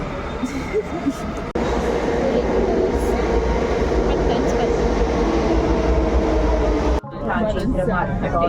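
Steady loud rumble of a metro train in motion, a continuous roar with faint rattling, cut off abruptly near the end before resuming.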